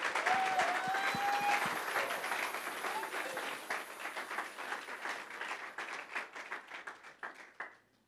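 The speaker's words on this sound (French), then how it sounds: "Est-ce qu'on peut acclamer le Seigneur" A church congregation bursts into applause, dense clapping from many hands at first, then thinning into scattered claps that fade out, with a brief sung or spoken tone near the start.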